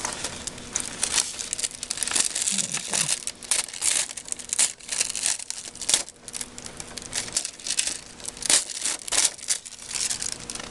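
Metallic foil being pressed by hand onto a craft project, giving continuous close crinkling and rustling with irregular bursts.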